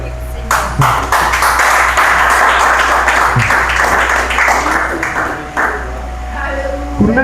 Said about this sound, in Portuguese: As palmas que glorificam o Senhor.